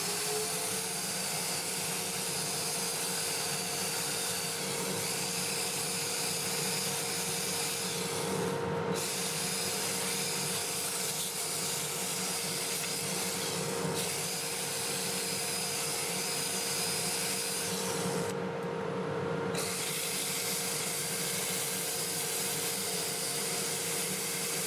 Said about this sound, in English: I'm going to get my dust collector going